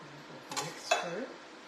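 A utensil stirs oil and croutons through a pan in a few quick scraping, clinking strokes, brief and close, with faint sizzling and a short murmur of background voice.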